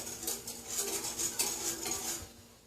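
A spoon clinks and scrapes against a pot while butter melts for homemade bread dough, a few light metallic taps and stirring strokes, close and fairly soft, with no talking.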